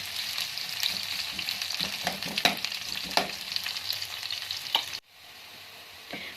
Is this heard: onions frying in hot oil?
yes